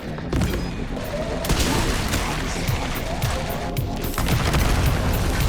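Mortar fire and explosions rumble through a Resident Evil 9 battle, a dense and continuous barrage of booms and gunfire with sharp blasts scattered throughout.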